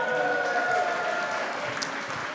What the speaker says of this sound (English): We'll keep those claps coming